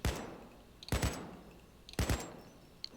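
Gunfire in Payday 2 comes as three sharp bursts about a second apart, each a quick cluster of cracking shots with short decaying tails, fairly faint overall and with no talk.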